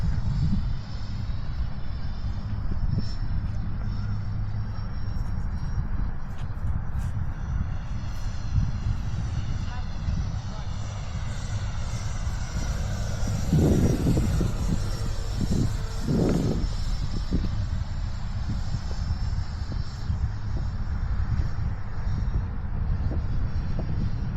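A 64mm electric ducted-fan RC jet airplane flies a landing approach at dusk, its steady whooshing whine holding throughout with a few louder low swells as it passes nearer.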